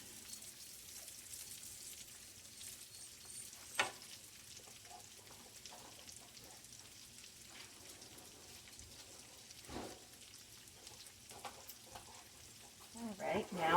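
Red cabbage cooks down in a pan over medium-high heat with a faint, steady sizzle, broken by a few clattering stirs and a louder scrape near the end.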